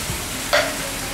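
Coconut milk hits a hot pan for a Cambodian-style cha kroeung dish, giving a brief bright hiss and sizzle that settles into a steady low frying crackle while it is stirred.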